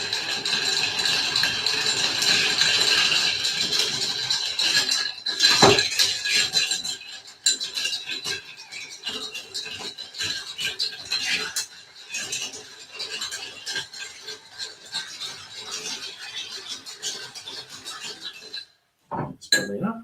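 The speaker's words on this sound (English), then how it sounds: "I'm going to stir this" A utensil scraping and clinking around a dish while food is stirred, with rapid irregular metallic taps and rubs up close, busier early on and easing off toward the end, with a soft voice briefly heard.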